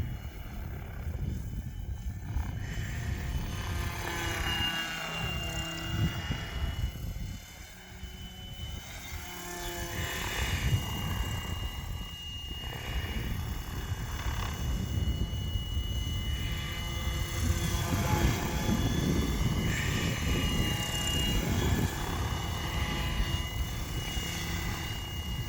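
A Tron Dnamic Pro RC helicopter flies at low headspeed, its steady rotor and motor drone running continuously at moderate distance with slight swells as it climbs and passes.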